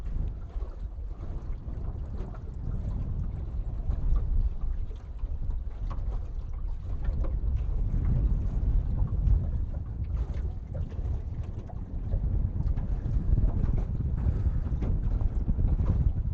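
Steady wind buffets the microphone on a small fishing boat out on Pishkun Reservoir in Montana, a continuous low rumbling roar with gusty swells that never lets up.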